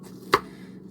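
A knife strikes a cutting board once, mincing an onion into small pieces. The single crisp chop is close and clear over a quiet kitchen background.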